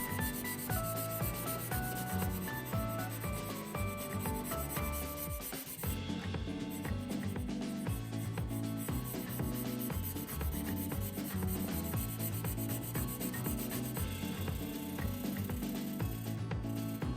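A 154CM steel Japanese kitchen knife is hand-polished with 1000- and 2000-grit waterproof sandpaper wrapped on a wooden block, using a pink polishing liquid. Steady, rhythmic scraping strokes continue throughout beneath background music.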